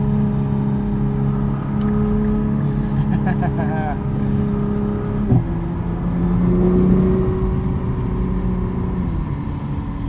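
Inside a 2022 Nissan GT-R Premium with a sequential dual-clutch gearbox, the turbocharged engine drones loud and steady under hard acceleration, with a brief shift-like break partway through and a rising hum afterward.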